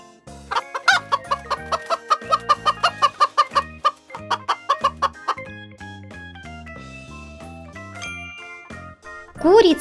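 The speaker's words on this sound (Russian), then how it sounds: "Курица." A cartoon chicken clucks in quick rhythmic bursts over tinkling, jingling children's music, loud and close, with a rising squawk at the end.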